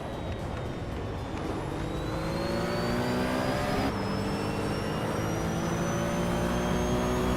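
Race cars accelerate during a race, several engines droning and rising in pitch together with steady, loud, overlapping revving, no voices.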